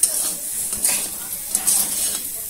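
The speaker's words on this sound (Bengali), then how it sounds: "ওইদিকে আলু ভাজাটা বাড়াচাড়া করছি" Potatoes frying in a pan being stirred, with a soft sizzle under repeated clinks and scrapes of a spoon against the metal pan, close and moderately loud.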